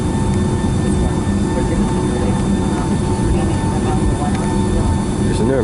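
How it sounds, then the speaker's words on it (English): Steady cabin rumble inside a Delta Boeing 757-200 airliner, a dense low drone with faint tonal hums that holds evenly throughout, while a person talks over it. "We're inside a Boeing 757-200, my all-time favorite aircraft."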